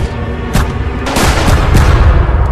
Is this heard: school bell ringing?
no